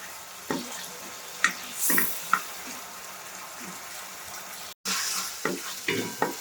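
Spice masala being stirred in a pan over high flame, a continuous low sizzle broken by repeated scraping strokes of a spoon, close and fairly quiet.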